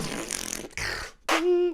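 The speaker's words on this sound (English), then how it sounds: "and then it's the fart bass." A synthesized fart bass from a cover song, blatting and buzzy in short bursts, the last one a loud sustained tone, close and with no talk over it.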